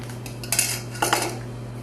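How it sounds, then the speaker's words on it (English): Utensil clinking against a bowl while mixing cornbread sausage stuffing with six beaten eggs, two short metallic scrapes over a steady low hum, close and without speech. "And you just mix it all together."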